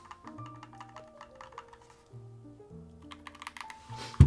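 Keys are lightly tapped on a Keyboy Advanced keyboard, a string of quick soft clicks in an uneven rhythm, close up over faint background music.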